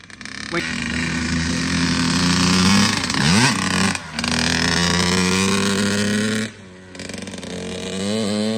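A Kawasaki KX85 two-stroke dirt bike engine, freshly rebuilt after being in terrible condition, runs loud and close, droning with a buzzy tone, revving up and down and briefly dropping off twice.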